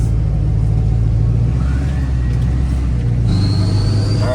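A 4wd Kodiak truck camper's engine rumbles steadily up close, a low continuous drone with a faint rising whine and a small shift in tone near the end, no talking.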